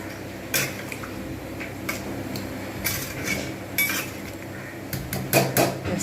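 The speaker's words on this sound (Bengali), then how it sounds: "ব্যাস এবার আপনি ঢাকনা দিয়ে দেবো ঢাকনা দিয়ে কিন্তু ফুটতে থাকবে" A metal lid set onto a cooking pot of simmering potol aloo posto gravy, giving several clinks and clatters of pot and lid, moderately loud and close, with no talking.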